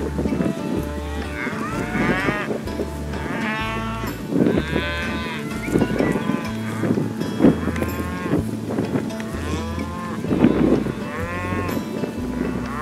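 Many cattle moo repeatedly as they head down to water on a ranch cattle drive, overlapping calls from a herd nearby, with a steady wind-like rumble underneath.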